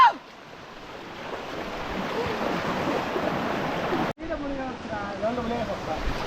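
Water rushing over rocks at Penchulakona waterfall makes a steady, loud, broadband roar throughout, with a brief drop near the end before the rush resumes. A voice can be heard faintly beneath the water in the last couple of seconds.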